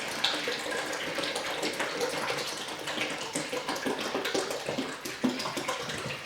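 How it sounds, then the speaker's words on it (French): Water from a bottle pours into a container for a children's fishing game, a steady close splashing and trickling stream lasting several seconds without talk. "il faudra demander à l'enfant de verser la bouteille d'eau dans le contenant"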